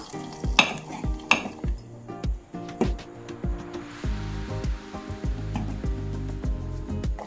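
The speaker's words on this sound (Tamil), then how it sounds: "இப்போ இது தாளித்து கொட்டிடலாம்." A sizzling tempering poured into South Indian buttermilk curry (mor kuzhambu): a burst of crackling and spitting oil, with repeated rhythmic spoon clinks against the pan over a steady bubbling simmer.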